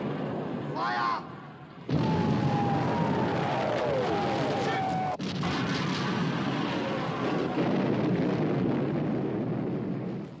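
Naval guns fire in a war film about sinking the Bismarck, with a heavy blast roaring in after a short lull, then sustained rumbling battle noise and a falling whistle, loud and close.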